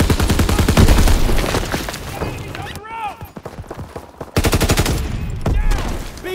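Call of Duty WW2 War mode gunfire: loud, rapid automatic bursts and overlapping shots crackle close by, pausing briefly before resuming, with battlefield voices calling out beneath.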